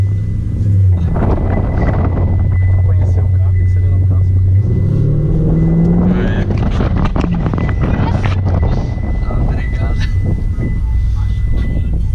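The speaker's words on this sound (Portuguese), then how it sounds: "Pode dar uma acelerada aí?" A loud Camaro engine revving hard at an auto sound show, its rumbling pitch rising and climbing, with people talking nearby.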